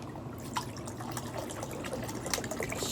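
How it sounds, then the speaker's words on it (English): Fresh spring water poured into a kitten's water dish, a steady close trickle and splash of liquid running alone for a few seconds. "Get you some more fresh water here, Alan."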